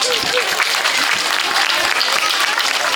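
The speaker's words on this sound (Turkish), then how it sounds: "Alkışlar Umut'a." A crowd at a 23 April children's celebration in Mülheim an der Ruhr, Germany, claps loudly and close by, a dense burst of applause with excited voices mixed in.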